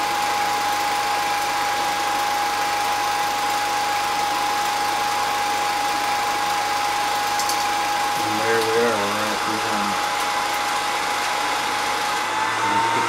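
A vintage Revere Model 85 film projector runs with a steady motor whir and a thin, constant whine, its mechanical drone holding level throughout with a brief murmur of voice partway through.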